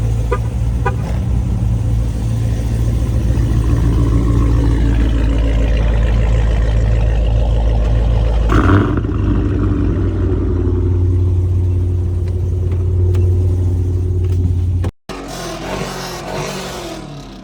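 A 797hp Hellcat Redeye engine roars loud and close with a deep, sustained rumble for about fifteen seconds, then cuts off abruptly to a quieter background.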